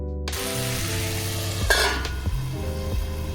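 Chopped tomato, onion and green chili fry in about a tablespoon of hot oil in a pan, a steady close sizzle with stirring and a few louder scraping bursts.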